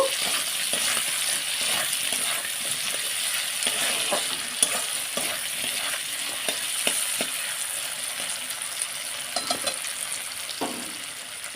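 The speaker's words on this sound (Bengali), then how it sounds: "এইবার দিয়ে ছোলাটাও একটুখানি ভেজে নেব" Chickpeas fry in a pan for a banana-stem curry, with a loud, continuous sizzle and busy stirring that brings rattling, scraping spatula knocks against the pan, close up with no voices.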